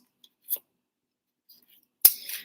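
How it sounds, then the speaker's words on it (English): A deck of tarot cards being shuffled by hand in a quiet room, a short papery flick followed by a longer crisp riffle of cards, close and otherwise silent. "I'm just going to keep shuffling"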